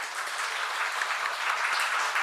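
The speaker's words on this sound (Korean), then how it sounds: "박수 한번 쳐드릴까요?" Congregation applauding during a Sunday church worship service, a steady dense clatter of clapping hands filling the room for a couple of seconds at even loudness.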